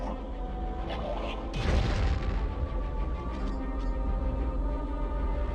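Video game explosions from Turok 2: a single heavy boom bursts out loud, then a rumbling, crackling tail carries on under steady background game sound, with no talking.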